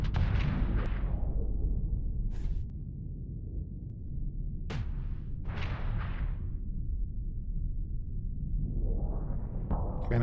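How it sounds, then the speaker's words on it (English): Mortars firing in the space combat game Starsector: several sharp booming bursts with deep rumbling tails, scattered irregularly across the stretch, loud and up close with no talking. "The mortars going off."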